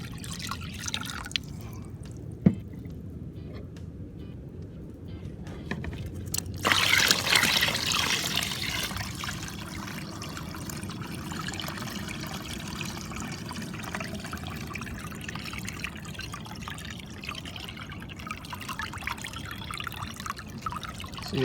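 Water trickles and drips into a one-gallon plastic container for watering Green Stalk planters, a steady close pour with a louder gush partway through, then a continued soft trickle, with no talking.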